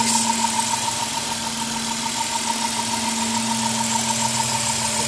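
A 3.3-litre V6 engine of a 2002 Dodge Caravan idles steadily with a low, even hum and a faint rhythmic pulse, close by and unchanging throughout.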